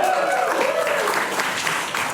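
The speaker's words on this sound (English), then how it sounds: "Round of applause." Audience applause at a tech meet-up, a steady dense wash of clapping lasting the whole moment with a voice briefly audible underneath.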